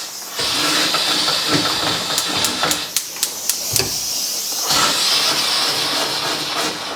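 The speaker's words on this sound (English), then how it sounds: "let's heat it up with the steam. Start breaking down the grease and the dirt" A Bissell Power Steamer jets steam onto a greasy stovetop, a loud continuous hiss that runs throughout, with a string of sharp clicks in the middle and a brief dip before the spray resumes.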